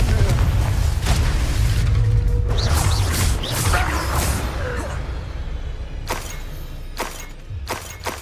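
A Confringo blasting spell from Hogwarts Legacy goes off as a loud, dense burst of crashing, booming impact noise, followed by several sharp smashing cracks and thuds at intervals.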